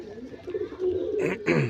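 Panjabi pigeons cooing in soft, low throaty bursts, with a couple of louder coos near the end, close by and fairly quiet.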